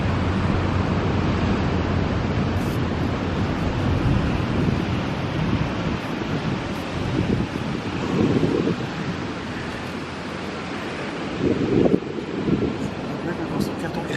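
Ocean surf and wind roar steadily at a beach, a dense, loud wash with gusts buffeting the microphone and occasional faint bumps.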